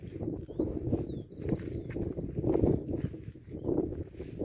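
A tame, calm Criollo horse walking on open ground: soft, irregular hoof clops under steady wind noise, fairly close, with a faint bird call above.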